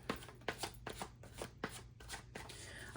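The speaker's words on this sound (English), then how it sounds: "when I shuffle these cards" Tarot cards are shuffled in quick, soft riffling bursts, close and quiet, repeating at an even rhythm with no voices.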